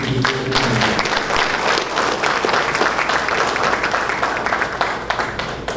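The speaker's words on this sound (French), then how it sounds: "je vous demande d'applaudir chaudement les employés de l'OFATMA pour ce travail" Warm audience applause at a public event: a dense, steady, loud wash of many hands clapping that holds throughout, with a faint murmur underneath.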